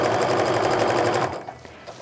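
A sewing machine stitches mug rug pieces in a fast, loud, close whir that stops about three-quarters of the way through, followed by faint handling noise.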